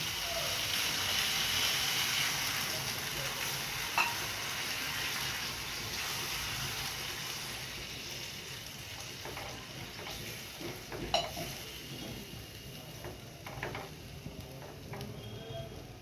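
Water is poured into a pan of sautéed spices, setting off a loud, steady broadband sizzle that slowly eases into a softer simmering hiss, with a few scattered clinks and no talking.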